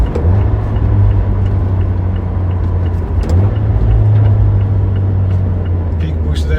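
A Fiat 124 Spider pulling hard in third gear, its engine droning loud and steady with a deep rumble that holds throughout, heard from inside the car, a voice briefly speaking over it.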